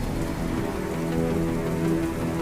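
Rain patters steadily on glass in a continuous dense hiss of drops, loud and even throughout with no voices.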